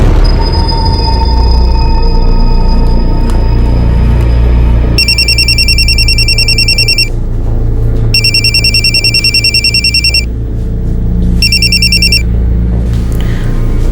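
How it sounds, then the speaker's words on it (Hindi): A telephone rings in three bursts of high, trilling bells separated by short pauses, loud over a steady low hum. "नरेश सर का फोन आया था"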